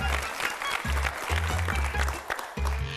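Studio audience on a Marathi TV game show breaks into applause, a dense, steady patter of clapping heard alongside a loud music bed and bursts of background voices.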